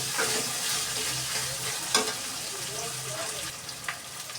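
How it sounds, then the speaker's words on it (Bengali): Tomatoes stirred into frying masala in a pan, a steady close sizzle with scraping spatula strokes and a few sharp clacks, no voices. "টমেটোগুলোকে ভালোভাবে নেড়ে গলিয়ে নেব একদম।"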